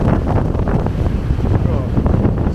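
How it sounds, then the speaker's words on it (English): Strong wind buffets the microphone with a constant low roar and rumble, close and heavy, outdoors by a waterfall on a Norwegian road trip. "It's very, very windy today again"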